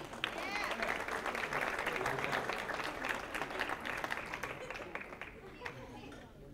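Banquet guests at a softball awards event applaud an award recipient in a dense round of clapping from a crowd, with faint murmurs in the room, before it thins and fades.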